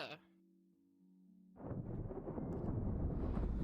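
Thunder in the fantasy game Victor: Dark Wilds, a low rumbling roll that swells in after a brief held tone and keeps building loud and heavy to the end.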